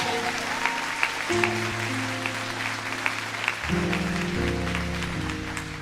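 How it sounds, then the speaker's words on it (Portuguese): Church congregation applauding, a steady wash of clapping with sustained organ or keyboard chords playing beneath it throughout. "Aplaude Jesus bem forte."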